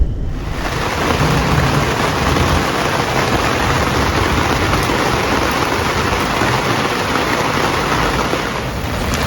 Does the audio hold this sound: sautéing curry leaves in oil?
no